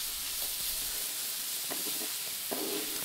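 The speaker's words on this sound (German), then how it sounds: "Jetzt schwitzen wir im Prinzip hier die Zwiebelwürfel schön glasig an." Diced onions sweating gently in a pan until glassy, a soft steady sizzle and hiss with a few quiet stirring scrapes, close and alone.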